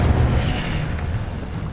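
Incendio fire spell cast in the Hogwarts Legacy video game, a steady low rumbling whoosh with a boomy fiery burst that sustains loudly throughout, with no talking.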